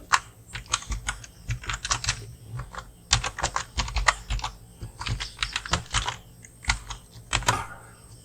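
Steady, close typing on a computer keyboard as the words Adobe Illustrator are entered, with quick irregular key clicks in bursts and brief pauses, no voice over it.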